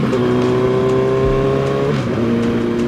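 Engine of a 2008 Suzuki Hayabusa motorcycle, a steady loud drone with layered harmonics, holding level then dropping pitch slightly near the end as revs ease.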